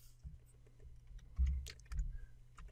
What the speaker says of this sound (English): And I'm typing with one letter, one finger.